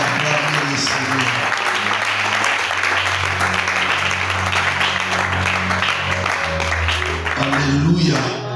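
A church congregation applauds the Lord with sustained, dense clapping and cheering that fills the whole stretch, with a voice and organ-like tones underneath.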